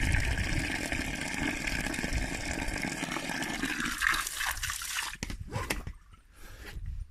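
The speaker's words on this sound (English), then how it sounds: "natural spring water" Natural spring water pours steadily in a loud, continuous gush. It then breaks into uneven splashes and trickles before tapering off.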